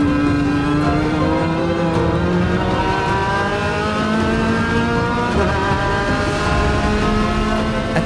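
A race car at the 14 Hours of Daytona drives at speed, its engine a loud, sustained drone near the listener with rising and shifting pitch as it accelerates and changes gear.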